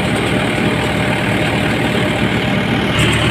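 A Mahindra 585 DI Power Plus tractor engine runs steadily at about 1200 RPM, a loud, even low rumble with no drop in revs throughout.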